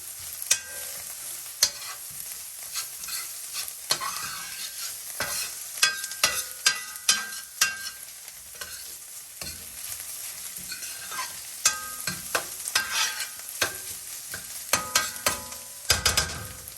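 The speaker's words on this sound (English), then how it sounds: "And then you're going to stir this and let it mix for about 1 more minute" Chopped garlic being stirred in a hot skillet, with frequent close spatula scrapes and taps over a continuous bright sizzle, moderately loud throughout.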